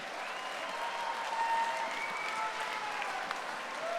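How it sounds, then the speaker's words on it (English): A cage-fighting event crowd applauds the fighters after the bout, steady dense clapping filling the arena at a distance. "Ladies and gentlemen, a round of applause, please, for both of the fighters in this cage."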